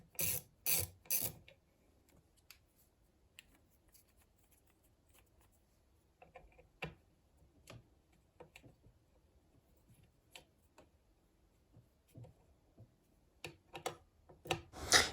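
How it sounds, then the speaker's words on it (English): A small Klein ratcheting screwdriver adjusts the pulley of a knife sharpener, giving sparse, quiet clicks and ticks over near silence, with a few louder bursts of rasping at the start and end. "that little ratcheting screwdriver is one by Klein"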